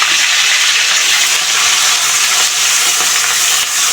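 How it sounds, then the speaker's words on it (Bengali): Spice paste of ground onion, garlic and ginger sautéed in hot oil, a dense, loud, continuous sizzle close up with faint stirring scrapes beneath. "কষিয়ে নিতে হবে মশলাটাকে"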